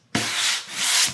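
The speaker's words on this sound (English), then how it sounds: "I'm just gonna start sanding" Sandpaper rubbed over painted wood to peel the paint from a fall door hanger, a short, close, steady rasping stroke with no talk.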